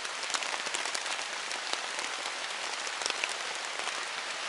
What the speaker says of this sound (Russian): дождь что-то припускает